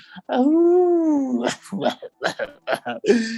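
A human voice imitates a lone, hungry wolf howling in the distance: one long, rising-then-falling howl, followed by short yelping and whimpering vocal sounds.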